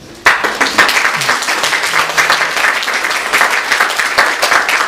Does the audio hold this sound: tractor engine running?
no